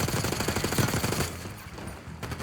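Rapid machine gun fire in a Black Ops 6 video game cutscene, loud and close, a fast rattling burst over about a second, then a quieter stretch of scattered shots and battle noise.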